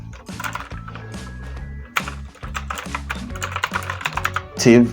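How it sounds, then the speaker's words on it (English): Fast, steady typing on a computer keyboard, with close, crisp key clicks in quick bursts over a few seconds, ending in a louder cluster of keystrokes. "and we can type administrative"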